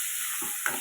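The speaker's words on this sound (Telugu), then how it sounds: "ఇలా తాలింపు పెట్టుకోవడండి" Tempering frying and sizzling in a pan, a steady close hiss with a brief stir or spatter near the end, no voices.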